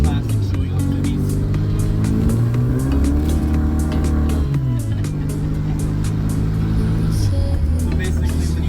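Engine of a classic blue old-school Morris Mini revving at a car meet, a loud, close engine note that rises and falls in pitch several times over continuous noise.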